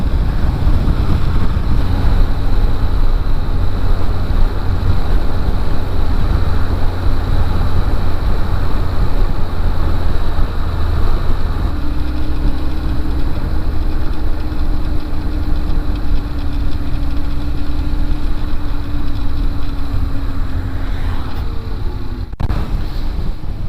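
A Yamaha FAZER 1000 motorcycle engine drones steadily while riding, with loud continuous wind rush over it; a tone shift midway suggests a gear or throttle change, and a sharp knock sounds near the end.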